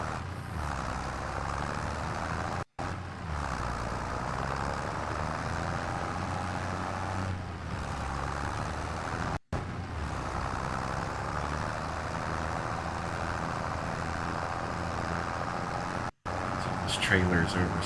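A tractor engine in Farming Simulator 2025, pulling an oversized trailer, drones steadily and loudly throughout, with a few brief dropouts and a short higher clatter near the end.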